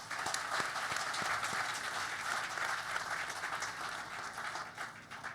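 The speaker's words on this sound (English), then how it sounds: "A big round of applause for them." An audience of the Indian community in Washington D.C. applauds at a gathering with India's External Affairs Minister: dense, steady clapping from many hands that fills the room and carries on throughout without a break.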